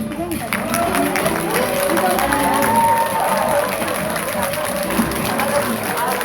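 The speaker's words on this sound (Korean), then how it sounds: "박영민 학장님 입장하실 때 큰 박수 부탁드리겠습니다" An audience claps as a college dean walks in to open the second part of a university student council event, a steady broadband patter of applause mixed with crowd babble filling the room.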